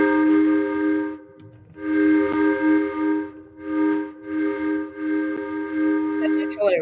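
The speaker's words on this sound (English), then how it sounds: "we can click on the space button to blow the whistle" A steam-style train whistle from a Minecraft trains addon sounds in several separate long blasts, tonal and clear, each rising and fading in a steady rhythm.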